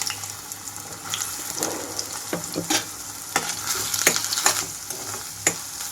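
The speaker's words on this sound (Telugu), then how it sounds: "ఆయిల్ అంతా హీట్ అయ్యాక మీల్ మేకర్ వేసి వేయించుకుంటున్నాను" Meal maker soya chunks fry in a few spoonfuls of hot oil, a steady close sizzle with repeated sharp crackles and spatula scrapes as they are stirred.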